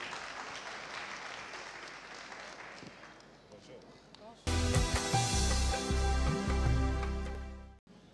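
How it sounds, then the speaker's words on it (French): An audience claps at a live televised gala show, a dense patter of applause mixed with a speaking voice. About halfway through, loud music cuts in and takes over. "Sous vos applaudissements, s'il vous plaît."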